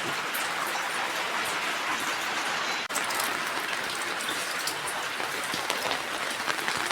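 Heavy rain pouring steadily during a flood in a village, a dense continuous hiss and patter filling the whole stretch without a break.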